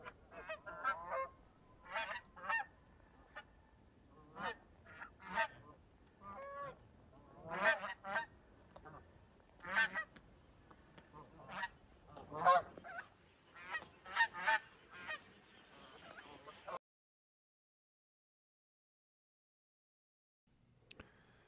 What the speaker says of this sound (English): we heard these Canadian geese coming from a long ways away, so I was able to get them flying directly overhead